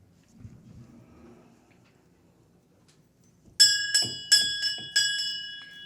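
A small bell rings five times in quick, bright strikes, each ringing out briefly, after a stretch of faint murmuring.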